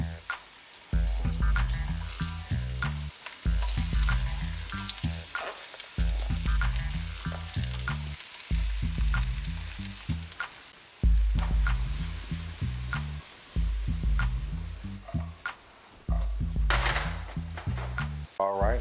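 Jalapenos sizzle loudly as they fry in a pan on an island cooking setup, a continuous crackling hiss broken by brief pauses and occasional clinks, close up.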